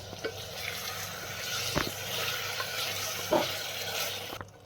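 Mushroom and broad bean pieces fry in a pan for a mushroom biryani, giving a steady soft sizzle with a few light clinks and stirring scrapes. No one speaks over it.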